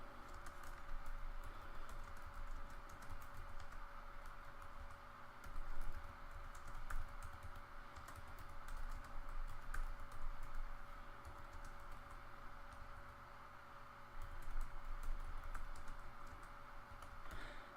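Steady typing on a computer keyboard fills the whole stretch, a continuous patter of soft keystroke clicks heard close and fairly faint, with no talking.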